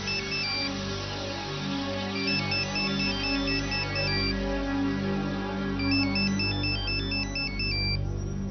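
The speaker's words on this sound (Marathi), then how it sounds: "फोन लावा मुधोळकरला" A phone ringtone plays loud and continuous, its repeating melodic beeps stepping up and down in a looping pattern for the whole stretch.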